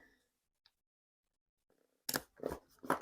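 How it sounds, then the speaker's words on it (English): Scissors trimming paper for a bullet journal page, heard as three quick close snipping cuts after a quiet stretch with faint handling rustles. "I'm going to trim this one"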